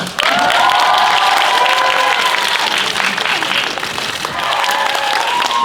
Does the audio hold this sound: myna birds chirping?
no